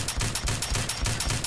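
Rapid automatic gunfire in Fallout 4, a steady stream of evenly spaced loud shots with no gaps across the short burst.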